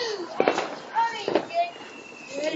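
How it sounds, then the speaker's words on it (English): Firework rockets launching and bursting on bonfire night outdoors, several sharp pops and crackling bangs spaced through the moment with whistling streaks, while people talk nearby. "Rockets are back"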